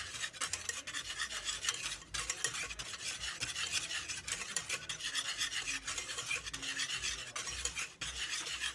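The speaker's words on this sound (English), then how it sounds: "whisk it all together, just to mix it together" A whisk scraping and stirring Christmas cookie ingredients in a bowl, a fast continuous rasping swish that stays close and steady for several seconds with brief pauses, no voices.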